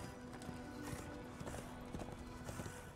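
Hooves of a galloping horse in Darksiders II, quick rhythmic clip-clop beats repeating steadily over a faint background hum, fairly quiet and close.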